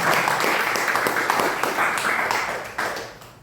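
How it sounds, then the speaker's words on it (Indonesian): Steady crowd applause at a business seminar in Pekanbaru fills the whole stretch, dense and fairly loud, fading slightly toward the end with a brief renewed burst. "tepuk tangan sekali lagi untuk Bapak Ibu."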